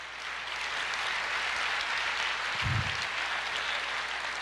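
A church congregation claps together in sustained, even applause, a broad steady wash of hands filling the room, with a brief low thump partway through and no speech on top.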